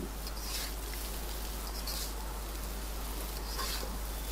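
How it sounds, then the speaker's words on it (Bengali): Potatoes fry in a pan, a steady, even sizzle and crackle of hot oil that continues without a break, moderately quiet and close, with no voices over it. "আর মিশিয়ে দিয়ে আরও কিছুক্ষণ এভাবে করে ভেজে নেব"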